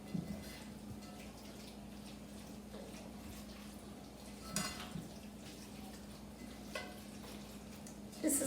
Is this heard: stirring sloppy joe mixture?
yes